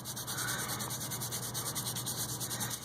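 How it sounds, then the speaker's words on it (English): Steady rubbing and scraping as a fingertip or cloth works loose flakes of gilding off a paper notecard, a continuous close, dry friction sound with no talk. "you want to kind of rub off the bigger chunks"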